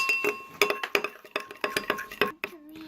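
A spoon clinks rhythmically against a bowl while red colouring is mixed into homemade slime, giving a run of sharp, close taps that stop near the end.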